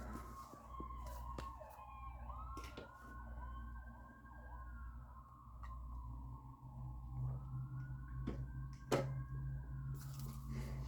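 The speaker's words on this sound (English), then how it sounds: "I'm gonna just be quiet until the sirens pass" Emergency vehicle sirens wail and sweep up and down continuously as they pass at a distance, faint over a low steady rumble of traffic, with a couple of sharp knocks partway through.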